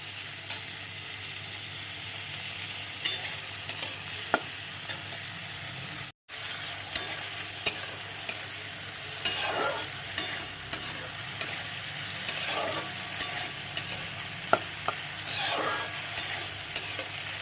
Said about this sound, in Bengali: পেঁয়াজটা আগে সুন্দর করে একটু ভেজে নিই